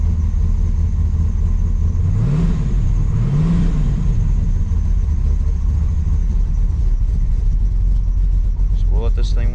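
A turbocharged car engine with JTEC tuning idles as it warms up, giving a loud, steady low rumble throughout and a brief rising whine near the end.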